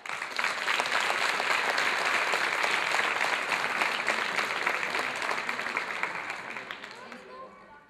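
Audience applause for a gymnastics team at a district championship award ceremony in Honningsvåg: dense, sustained clapping that holds steady, then thins out and fades at the end.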